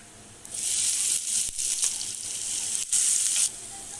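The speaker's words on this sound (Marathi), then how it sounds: "आता आपण या भाजीला फोडणी देऊया" Loud hiss of cumin and garlic-chili paste hitting hot oil, bursting into sizzle and surging again, with brief dips between bursts.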